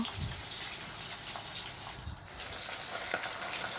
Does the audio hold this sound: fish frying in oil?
yes